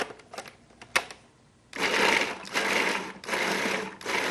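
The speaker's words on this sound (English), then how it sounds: "Now, don't walk away from the food processors." After a few light clicks and taps, a food processor chopping celery and garlic starts up in short, loud whirring pulses, four bursts separated by brief pauses.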